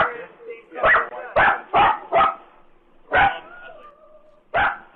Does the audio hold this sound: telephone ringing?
no